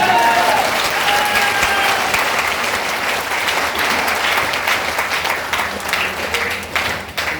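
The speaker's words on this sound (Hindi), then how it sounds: "ताली बजनी चाहिए ना जोर से।" A seminar audience claps loudly and continuously, a thick crowd roar of hands that stays strong throughout and thins slightly in the final moments.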